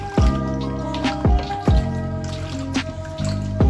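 Catfish being lowered back into hot water in a pot, with repeated splashes and liquid sloshing at irregular intervals, close and fairly loud, with no talk.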